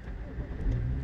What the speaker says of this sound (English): The vehicle just started up.